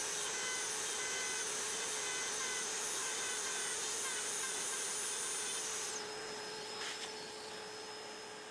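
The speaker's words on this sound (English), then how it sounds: "I'll route it with a Dremel and a small end mill going close to the line" A Dremel rotary tool with a small end mill routing scrap wood for a hollow-body guitar gives a steady, high-pitched whine that holds level, then drops in pitch and fades near the end.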